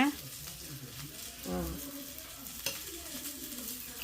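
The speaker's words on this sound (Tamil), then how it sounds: "இந்த குழம்பு கொதிச்சிருச்சுல" Soft bubbling and gentle simmering of fish curry in a pot on the stove, with a brief clatter of stirring midway, steady and close.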